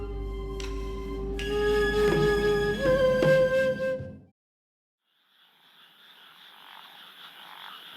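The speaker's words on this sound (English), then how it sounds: "It sounds like we're going to be serenaded by some frogs tonight." Frogs croak in a dense chorus over layered tonal sound, then a brief silence before a fainter, hissing chorus of calls returns.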